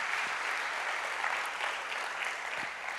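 Steady, dense applause from a church congregation, giving a hearty round of clapping to God during a sermon, sustained and even throughout with no talking over it.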